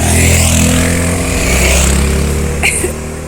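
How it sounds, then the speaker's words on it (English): Steady street traffic in Thailand rumbles loudly and continuously, with passing cars and motorbikes blending into a constant engine drone. "Even though it's a little bit noisy. It's never been so much traffic."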